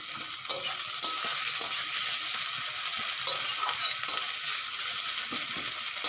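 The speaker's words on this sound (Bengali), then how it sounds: "পেঁয়াজগুলো খুব সুন্দর করে ভেজে নেব" Sliced onion fries in oil in a pan for a Bengali dish of fried bottle gourd peels, giving a steady hiss with small pops and light stirring clicks, close and alone without talk.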